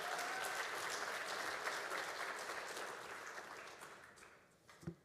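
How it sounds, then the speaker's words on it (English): Audience applause at a school district State of the District event, a full sustained clapping that slowly fades toward the end with a single last clap. "So let's give them a huge round of applause."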